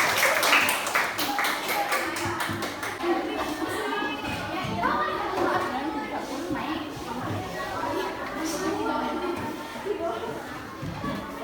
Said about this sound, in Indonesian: Boleh kasih tepuk tangan dulu untuk kelompok